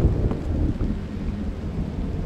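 Thunder and rain inside a horror video game: a dense, steady rumbling wash of low noise with a continuous rain hiss and no clear breaks.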